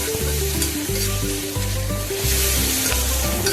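Chopped onion sautés in a pan for a brinjal biryani gravy, giving a steady hiss of sizzling oil. A loud, tonal background melody plays throughout, with no talk.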